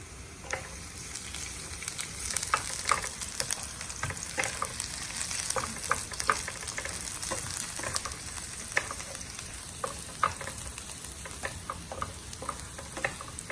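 Garlic frying in a pan on a gas cooker outdoors for pineapple chicken curry, a steady soft sizzle with scattered pops and stirring clicks throughout.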